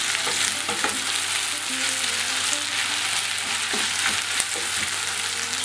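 Ring-sliced onions fry in a pan with olive oil for stuffed peppers, giving a continuous close sizzle broken by occasional stirring scrapes and clicks, with no voices.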